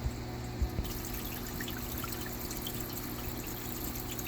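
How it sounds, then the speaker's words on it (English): An aquarium water pump in a red clawed crab tank running at full flow, a continuous splashing trickle with low pump hum, steady and close, after a couple of brief knocks at the start. "we are going to turn the volume of the water all the way up"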